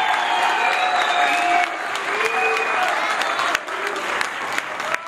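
Sustained audience applause at a school theatre performance by an evening secondary school drama group, a dense clatter of many hands filling the hall steadily throughout, easing slightly toward the end.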